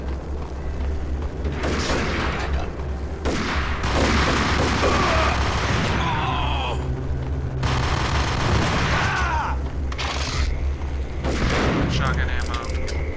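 Ingram submachine gun fire in the video game Max Payne comes in loud, dense bursts separated by short quieter gaps, mixed with booming game effects.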